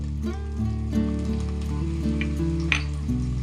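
Ginger and green chili sauté in oil for a village fish curry, a soft continuous sizzle with occasional sharp crackles, set against a steady tonal hum.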